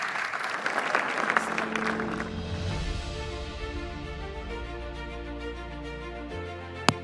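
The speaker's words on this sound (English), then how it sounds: "Can we give another massive round of applause for James?" Audience applause fills a large plenary hall at a conference, starting dense and loud then thinning into scattered clapping that fades over several seconds, with a sharp single knock near the end.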